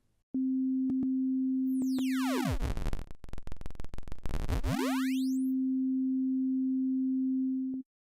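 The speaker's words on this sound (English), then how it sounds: "Decimate is quite simple. It reduces the sample rate of the signal." A steady low electronic tone breaks into harsh, sweeping chirps that fan up and back down through the pitch range, then settles back to the plain tone.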